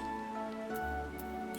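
Steady rain patters in Final Fantasy XIV over a low ambient hum and faint tonal background music, with no talking.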